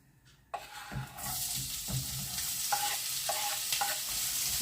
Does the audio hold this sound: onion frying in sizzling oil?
yes